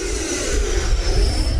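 A Horizon Hobby RC jet airplane's turbine engine flying aerobatic knife-edge passes gives a loud, steady whooshing roar with a thin high whine running through it, with no talking.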